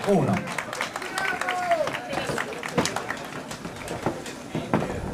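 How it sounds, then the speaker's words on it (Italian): Applause from a small festival audience at the first Festa dell'ambiente in Sinnai, Sardinia: steady, dense clapping throughout with voices talking over it. "Un applauso."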